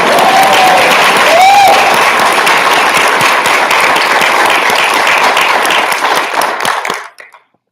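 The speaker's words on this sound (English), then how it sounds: "so how about we clap him really loud?" Loud applause from staff at an all-staff meeting and awards ceremony fills the room with steady clapping and a faint whistle early on, then dies away abruptly near the end.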